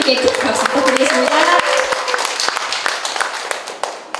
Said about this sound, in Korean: 이정 선생님께 큰 박수 부탁드리겠습니다